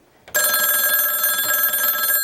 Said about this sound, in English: We're ringing a bell.